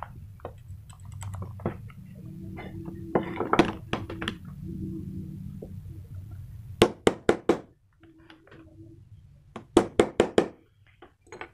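Sharp metallic knocks on a drill chuck to loosen it, in short bursts, several quick taps at a time with pauses between, close by and fairly loud.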